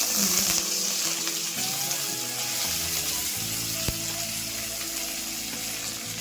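Green chillies and curry leaves sizzle loudly in hot oil in a pan. The hiss is steady and crackling, with a few faint clinks and stirring sounds underneath.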